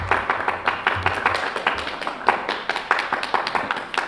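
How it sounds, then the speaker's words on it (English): Audience members clap at a county commission meeting, a loose, uneven patter of individual hand claps that carries steadily for several seconds at moderate volume. "I never try to stifle clapping"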